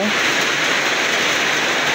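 Steady, heavy rain roars in a continuous wash of noise, close and loud, with a faint brief tone at the start.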